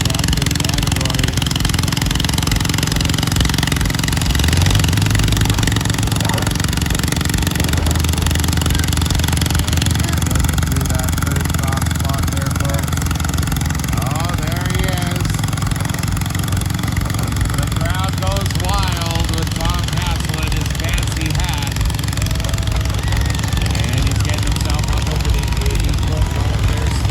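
A garden tractor engine in an antique tractor pull at a fairground, a steady droning motor that runs continuously under loud announcer commentary and crowd noise.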